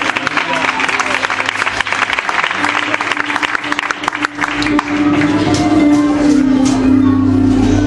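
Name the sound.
congregation applause in church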